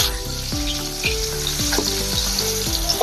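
Chopped onions go into a little hot oil, about half a teaspoon, for a dhaba-style aloo do pyaza, giving a steady close sizzle and frying hiss that runs the whole time with no talking.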